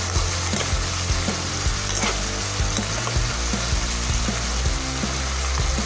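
Ground turmeric and cumin sizzle steadily in hot oil in a pan for a Bengali-style fish curry, a dense continuous crackle with a spoon scraping and stirring now and then, close and alone.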